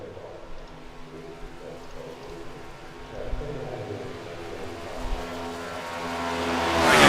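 A race car engine drones on the Daytona track in a sim racing game, a steady mid-level engine note that rises to a loud, high-pitched roar at the end.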